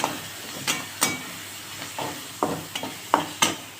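A spatula stirs an egg bhurji base with half a spoon of turmeric powder in a sizzling pan, making irregular scraping knocks every half second or so over a soft, continuous frying hiss.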